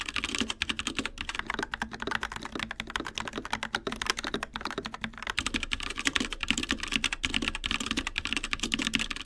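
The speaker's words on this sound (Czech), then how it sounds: "Mám tady na testování klávesnici od Dark Project, která stojí velmi podobně a která používá silikonový výplně." Steady, fast typing on a Dark Project mechanical keyboard with silicone dampening fill, a dense run of close, crisp key clacks at even loudness with no talking.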